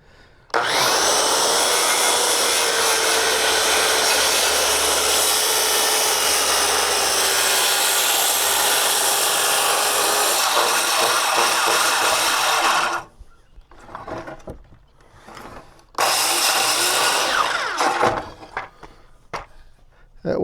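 A power saw blade rips steadily through wood during a rotten porch repair, a loud continuous grinding whine lasting many seconds, then stopping, with brief rattles before the blade runs again.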